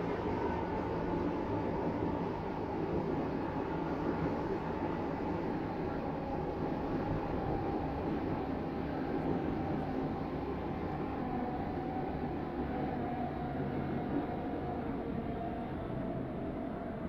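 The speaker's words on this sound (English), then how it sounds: "This train terminates here." Low steady rumble of an airport rail train running toward a terminal station, a continuous even drone heard from inside the carriage with no talk.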